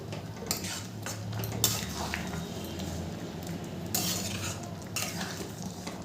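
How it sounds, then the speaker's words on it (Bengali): Ghugni, a Bengali dried pea curry, stirred in a pan with a metal spoon, producing repeated close scrapes and clinks against the pan over a soft background sizzle. "ভালো করে নেড়ে দেবো।"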